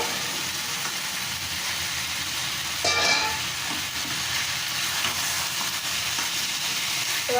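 Water poured into a pan of frying chicken and banana flower brings a steady loud sizzle with a brief hiss burst partway through. The frying continues unbroken throughout.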